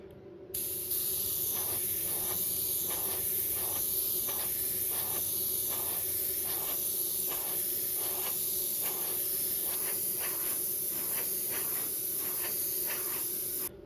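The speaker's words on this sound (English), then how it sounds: "Gonna lightly spray him with some silver." Paint sprays in a steady hissing stream with rhythmic short bursts as silver is misted lightly over a handmade rainbow trout swimbait lure, close and continuous with no talking.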